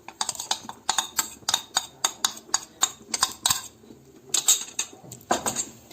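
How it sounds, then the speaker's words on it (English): A spoon stirs sugar and cocoa powder in a bowl for a biscuit cake pudding, giving a quick run of light clinks and scrapes against the bowl at an uneven, busy rhythm, close by with no talking. "To this I'm going to add the sugar and give a stir."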